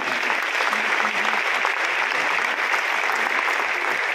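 A large audience at a comic poetry gathering in a Kolkata hall applauds a poet, loud, dense clapping holding steady for several seconds.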